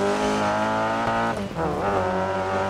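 Rally car in Dirt Rally 2.0 roars at steady high revs with a dense harmonic engine drone, briefly dipping and sliding with tire skid noise before surging back, loud and continuous with no talk.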